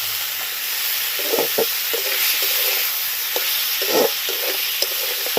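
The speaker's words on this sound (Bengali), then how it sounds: "এবারে মশলাটা দিয়ে খুব ভালো করে কষাতে হবে" Spices for a fish curry fry in a pan with a constant hiss, while a utensil scrapes and stirs in irregular strokes throughout, close and fairly loud.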